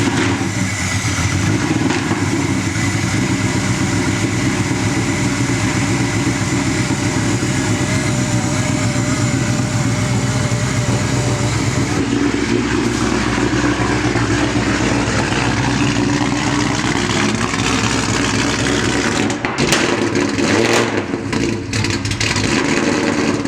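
A Ford SVT Terminator Cobra with a smaller supercharger pulley and upgraded exhaust runs close and loud, its engine droning steadily at idle and shifting pitch as it revs partway through, with no talk over it.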